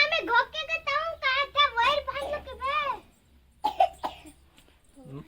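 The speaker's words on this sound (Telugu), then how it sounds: "మమ్మీ అయితే దగ్గుతుంది నిన్న నైట్ నుంచి." A woman who has had a cough since the previous night coughs a couple of short times after someone talks, fairly close and moderate in loudness.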